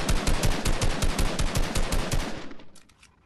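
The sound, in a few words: gunfire in a battle royale video game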